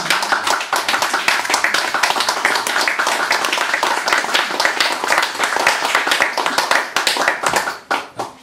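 An audience applauds a poet at a reading, dense continuous clapping from many hands, loud and close, sustained for several seconds before tapering at the end.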